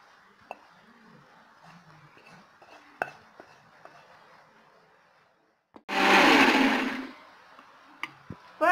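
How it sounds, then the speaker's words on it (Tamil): A kitchen mixer grinder blending radish for Tamil-style chutney: quiet clinks and small knocks, then one loud whirring burst of about a second, with another grinding burst starting right at the end. "மிக்சியில் ஒன்று ரெண்டு அரைச்சிட்டு அதை வறுத்து போட்டுக்கலாங்க"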